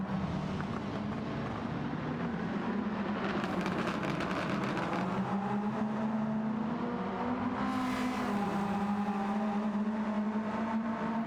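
Racing car engines from Gran Turismo 7, a Lancaster Evo battle in an online league race, hum steadily with shifting revs and a higher surge near the end, continuous and mid-distance with no talk.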